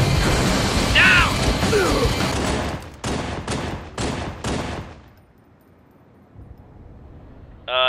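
Rapid bursts of gunfire and crashing impacts from a Red vs. Blue animated trailer, several loud rattling volleys in the first five seconds, then a quieter stretch before a brief voice at the end.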